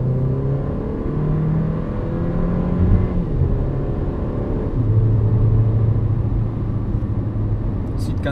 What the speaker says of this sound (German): Schalte ich jetzt vielleicht runter und gebe etwas Gas.